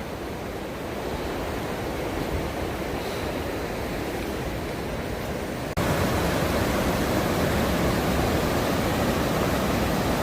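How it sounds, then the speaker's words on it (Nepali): A small waterfall of Himalayan meltwater on the Gosaikunda trek gives a steady, close broadband rush of falling water, growing noticeably louder about halfway through, with no voices. "मिनी झरना है, मिनी झरना"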